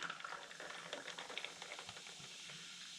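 Topo Chico sparkling water is topped onto a mojito and fizzes with a fine, crackling patter of bursting bubbles, close and fairly faint.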